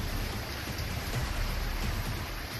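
Heavy monsoon rain and rushing flood water in Haridwar, a steady, dense hiss of downpour over a low roaring churn of water, continuous and fairly distant with no voices.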